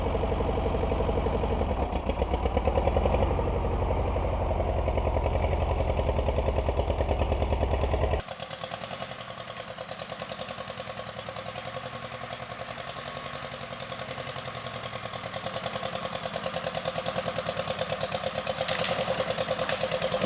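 A 1948 Case VA tractor's small engine runs steadily with a rapid, even putter, louder and heavier at first, then dropping to a lighter, thinner idle-like chug that continues for a long stretch without voices.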